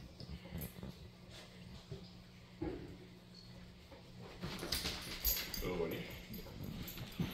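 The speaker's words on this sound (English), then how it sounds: "here's the dogs and our Bengal Coco. Excited to eat their fresh chicken" Several dogs wait excitedly for fresh warm chicken, giving soft whimpers, yips and snuffles close by, growing busier toward the end, with low background speech.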